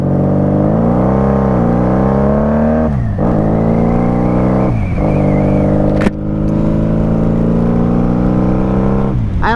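Loud, close 1995 Honda Magna VF750C motorcycle engine with Jardine straight drag pipes, revving through rising harmonic sweeps with brief drops between gear changes, a raw continuous exhaust roar throughout.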